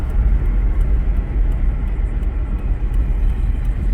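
Car driving on the road after a mass airflow sensor swap, heard as a continuous low engine and road rumble from inside, steady and fairly loud with no talk.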